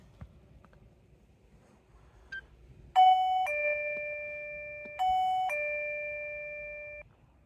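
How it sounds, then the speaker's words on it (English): A motion-triggered perimeter alarm at a night campsite sounds a two-tone electronic chime twice in a row, each ding-dong ringing clearly over near-silence. "his motion-triggered perimeter alarm goes off"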